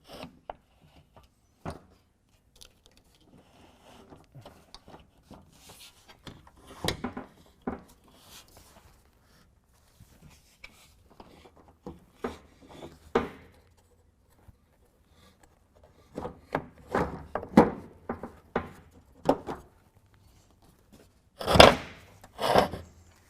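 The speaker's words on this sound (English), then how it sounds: "I'm going to line that up as I run the blanket of the cover" A GatorTrax MX electric tonneau cover's blanket slides into the rail channel on a 2014 Dodge Ram 1500, making intermittent soft rubbing and scraping handling noises that bunch together toward the end, close up with no talking.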